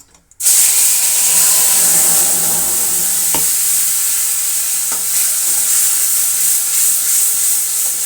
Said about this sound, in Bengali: তেল হয়ে গেছে, এখন আমি দিয়ে দেবো এর মধ্যেই পেস্ট করে রাখা সেই মশলাগুলো।